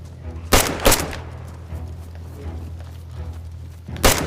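Unsuppressed gunfire in the DayZ video game: a couple of sharp, loud reports near the start and another near the end, with a low rumble between them.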